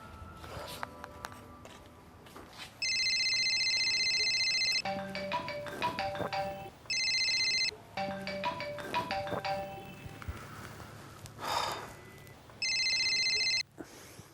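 A mobile phone ringtone sounds in loud repeated bursts, a steady electronic ring that starts and stops several times between quieter indoor clatter.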